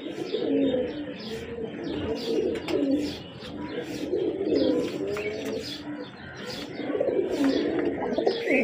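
Close high-flyer pigeons cooing in repeated low, throaty rolls, with small chirps and fluttery rustles mixed in, continuous throughout.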